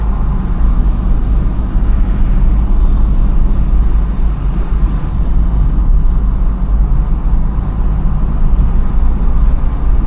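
A 2013 Opel Corsa diesel driving along a Greek mountain road, heard from inside the car as a loud, steady low engine and road rumble throughout, with no pauses.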